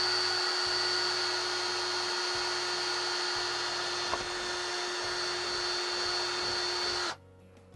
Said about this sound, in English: start the drill and drill the hole